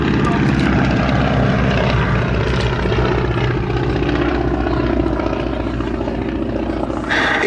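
Propeller aircraft engines drone loudly and steadily at the Duxford air show, a military-camouflaged plane leading a pair, the sound holding close and constant under a voice talking throughout.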